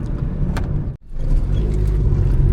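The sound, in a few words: Alto K10 engine revving with rev matching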